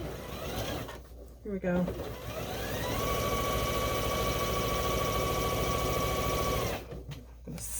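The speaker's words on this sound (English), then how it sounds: "I'm gonna sew till I meet up to my line" A sewing machine stitches a quilt fabric panel in a long, steady, close motor whir that starts after a short spoken remark and stops near the end.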